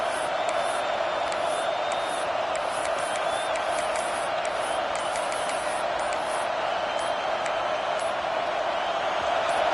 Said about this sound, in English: this crowd trying to help this defense rise to the occasion